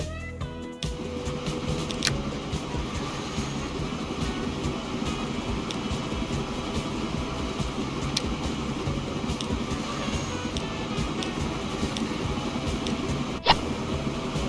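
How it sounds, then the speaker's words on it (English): Oil train running in the video game Transport Fever, a steady mechanical rumble and rolling clatter that holds an even level throughout, with a few brief sharp clicks and no speech. "let's upgrade our oil train."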